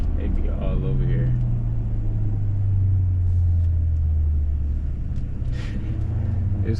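Deep, steady engine rumble from a 2010 BMW X6M, a big SUV, droning low and continuous throughout, with a voice talking over it.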